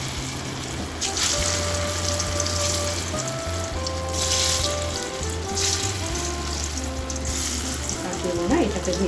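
Palm fruit fritters (taler bora) fry in hot oil with a steady, close hiss and crackle that continues throughout, over a low background hum and some faint music.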